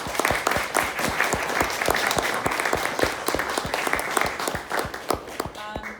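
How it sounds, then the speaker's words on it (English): Lively applause from the audience after a sex tech debate at Somerset House in 2020, with many distinct, close hand claps over a dense crowd wash, sustained and fairly loud throughout. "we'll give big round of applause to everybody"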